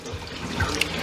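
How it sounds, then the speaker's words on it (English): Water emptied from a container of defrosting shrimp in a kitchen, a steady close pour and trickle with a small splash near the end. "I'm just gonna go ahead and empty out all the water."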